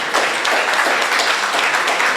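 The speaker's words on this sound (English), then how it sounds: "I see Baba clapping." Applause from a crowd at a political gathering, a dense run of many hands clapping close and fairly loud for a couple of seconds with no talk over it.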